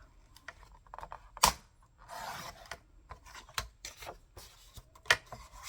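Cardstock being cut into strips for handmade cards, heard as a series of sharp, separate snips and clicks with short quiet gaps between them, close and fairly soft.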